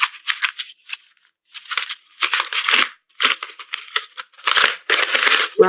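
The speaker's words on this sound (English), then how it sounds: "crumple it into a ball" Sheet of amate bark paper crumpled into a ball by hand: a series of close, crisp crinkling bursts in irregular bunches with short pauses, no talking.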